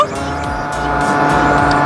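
A fast vehicle roars past on a road, a loud, close, continuous engine and rushing-air noise that swells steadily without any talk over it.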